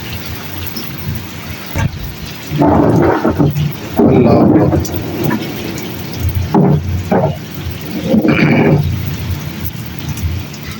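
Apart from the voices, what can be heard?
heavy rain with thunder in a village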